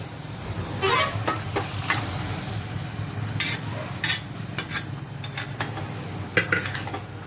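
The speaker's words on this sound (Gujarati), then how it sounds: "હવે દાળ મેં 1 વાટકી બાફેલી છે, હવે નાખશું દાળ" Boiled dal is tipped into a pan of cooked bottle gourd and stirred, giving a soft continuous sizzle under scraping and a few sharp clinks of a spoon against the metal pot, close by.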